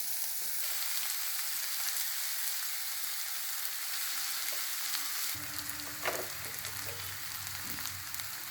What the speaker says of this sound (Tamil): கேரட் வதங்கிடுச்சு மரவள்ளிக்கிழங்கை வந்து உப்பு போட்டு வேக வச்சு நல்லா மசிச்சு வச்சுருக்கேன் இதை நம்ம இதில் போடுவோம்